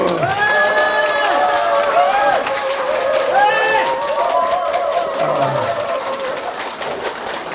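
A lecture audience claps and cheers at a Saturday talk, a dense, continuous crowd roar with shouts and whistles lasting throughout.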